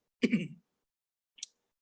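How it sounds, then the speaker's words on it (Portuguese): A single rough cough or throat clear, close and fairly loud, followed a second later by a short faint click, then silence. "vocês desculpem aí minha tosse"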